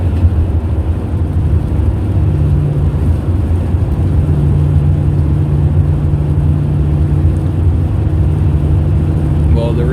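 Steady low drone of a rear-wheel-drive car cruising at about 60 mph down a snowy winter road in Minnesota, a continuous close engine and road hum running throughout with a low tonal whine.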